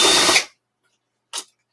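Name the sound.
power screwdriver removing screws from Apple IIe case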